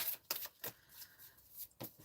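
Playing cards riffle and snap in short crisp bursts during a card reading, close and fairly quiet, with several quick shuffles spread across the moment and no voices.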